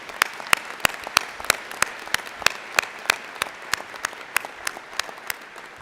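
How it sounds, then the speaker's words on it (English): Soft audience applause at a University of Calgary spring convocation ceremony, a fairly quiet wash punctuated by sharp, regularly spaced individual claps that stand out above the rest. "So let's give ourselves a round of applause for being here and for supporting our graduates who are here today."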